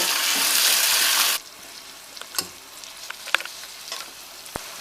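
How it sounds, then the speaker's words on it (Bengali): Capsicum and long beans are tipped into a hot pan with a spoonful of salt, giving a loud burst of sizzling that drops to a softer crackle punctuated by scattered stirring clicks and taps. "ক্যাপসিকামও দিয়ে দিচ্ছি বরবটিও দিয়ে দিচ্ছি সব একসঙ্গে এক চামচ নুন দিয়ে আমি ভেজে নেব"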